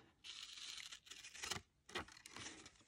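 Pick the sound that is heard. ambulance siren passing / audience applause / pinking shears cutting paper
pinking shears cutting paper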